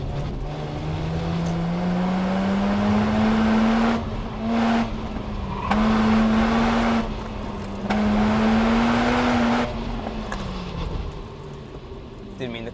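A Mazda RX-8 is driven hard through a turn, its engine drone rising and falling in pitch as it loads and eases off, loud and close, with brief dips between surges and some speech over it.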